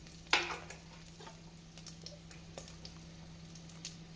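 Cashews, raisins and saffron go into hot ghee with chopped green chilies while cooking ghee rice, giving a quiet, steady sizzle after a brief clatter at the start, with faint stirring taps.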